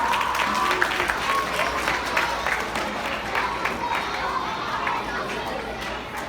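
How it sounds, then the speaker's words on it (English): Audience applause at a book tour event, steady clapping mixed with crowd chatter and a lively room murmur throughout, with voices audible in the background. "Can we give her a round of applause?"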